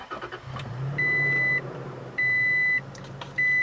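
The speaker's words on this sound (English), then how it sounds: "immediately I'm hearing that TRD Sport exhaust, which definitely makes this V6 sound a lot better than the stock one" A 2017 Toyota Tacoma TRD Pro V6 with a TRD Sport exhaust fires up into a low, steady engine rumble, with three long electronic chime beeps sounding over it.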